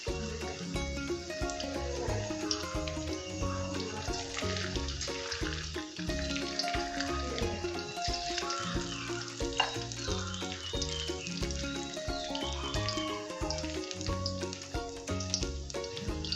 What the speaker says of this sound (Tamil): மீடியம் ஃப்ளேமில் நாங்கள் இதை பொரிச்சு எடுக்க போகிறோம்.